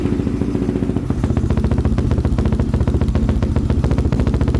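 A neglected Yamaha Raptor ATV engine runs with the choke on, close and loud, revving in a rapid, uneven staccato of popping exhaust pulses that speed up after the first second.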